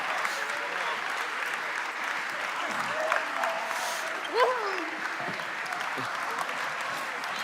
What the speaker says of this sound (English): So please give all our kids a round of applause.